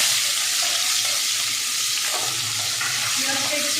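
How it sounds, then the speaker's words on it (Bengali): Onions frying in oil seasoned with bay leaves, cardamom, cinnamon and cloves: a loud, steady, close sizzle with occasional stirring scrapes throughout, no voice. "পেঁয়াজটা একটু বেশ ভালো করে লাল করে ভেজে নিতে হবে।"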